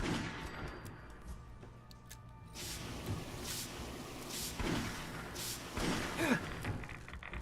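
Gunfire rings out in Fallout 4, a series of sharp cracks and thuds spread over several seconds against a busy game background.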